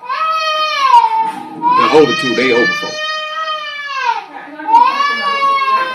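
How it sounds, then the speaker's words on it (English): Several of six to eight children in a crowded room cry and wail loudly at close range, with sustained high sobbing that rises and falls over a few seconds, mixed with some talking. "if you hear these children crying and hollering"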